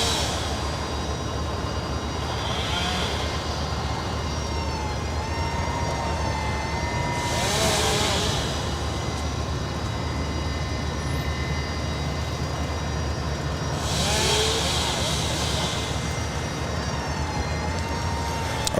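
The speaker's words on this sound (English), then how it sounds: "That is Spirit Airlines Flight 590, coming in from Houston, Texas. It's an A320." A Spirit Airlines Airbus A320 jet arriving at LAX from Houston, Texas, heard as a steady, fairly distant engine roar with a thin whine that swells gently twice and never fades out.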